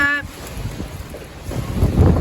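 Strong gusty wind from a storm with high winds, a broad rushing roar that buffets the microphone and swells louder toward the end.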